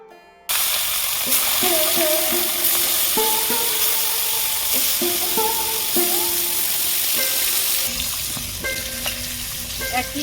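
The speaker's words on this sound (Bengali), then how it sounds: "তেল গরম হয়ে গেছে মাছগুলো ভেজে নেব" Pieces of snakehead fish fry in hot oil in a loud, continuous sizzle with bubbling crackles, joined now and then by faint clinks of a utensil.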